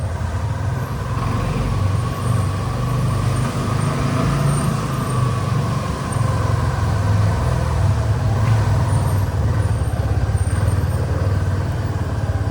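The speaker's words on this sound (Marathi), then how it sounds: "कुणालची गाडी" Steady close road noise from a moving car, a continuous low engine drone and tyre rumble at constant loudness throughout, with no talk.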